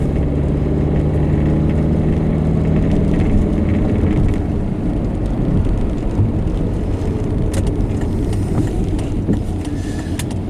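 A Volvo car driving, steady loud low engine and road rumble heard from inside the cabin, continuous and even throughout with faint rattles, no speech.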